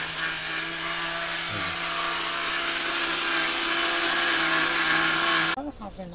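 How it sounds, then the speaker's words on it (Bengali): A blender grinding rice into flour roars continuously at close range, a steady high-pitched whir that cuts off near the end as the motor stops. "চাউল গুঁড়ি করে নিতে আছে ব্লেন্ডারে"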